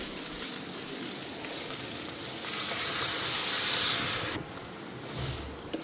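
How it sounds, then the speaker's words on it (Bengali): Water poured onto a fried jackfruit spice mix in a pan, a steady hiss that swells into louder sizzling steam before easing off, close and unaccompanied by talk. "এদিকে কাঁঠালের মশলা ভাজা হয়ে গেছে, তারপর জল দিয়ে দিই।"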